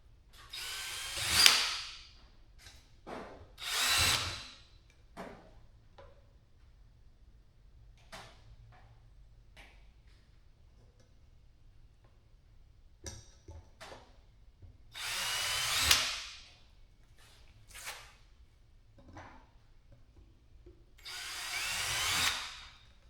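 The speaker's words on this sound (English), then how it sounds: "I'm going to come back with a very small drill bit." Power drill with a small bit boring a counter hole into a plastic deer feeder, heard as several separate loud whirring bursts with quiet gaps between them, close up and with no talking.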